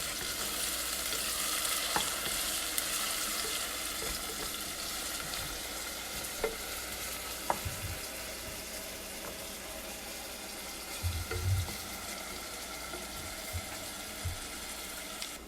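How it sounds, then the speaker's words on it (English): Chopped onion and garlic fry in oil for an egg and chickpea curry, a continuous close sizzle with scattered scrapes and clicks of a spoon stirring, no one speaking. "So the first thing we're gonna add the chopped onion and the garlic right here in the oil."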